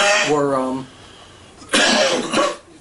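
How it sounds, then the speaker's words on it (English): A voice speaks briefly, then after a pause comes a burst of rough, throaty coughing, loud and close, in two quick bursts. "you're not supposed to cough when I talk"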